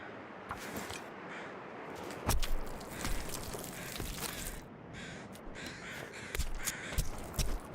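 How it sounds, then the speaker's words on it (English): Crows cawing in the survival game The Long Dark, harsh repeated calls heard over a grainy wind-like bed, with some crunchy footstep-like thuds and no talk. "I think those birds are moving from left to right"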